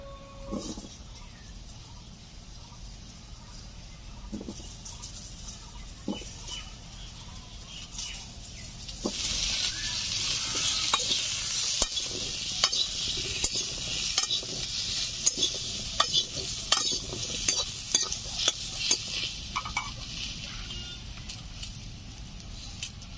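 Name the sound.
washed, cut potatoes frying and stirred in oil in a kadai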